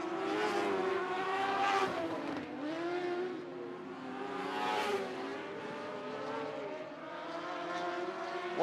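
Dwarf cars race around Sunset Speedway Park during a heat race, their engines buzzing and rising and falling in pitch as they pass, with several revving cars overlapping at moderate distance throughout.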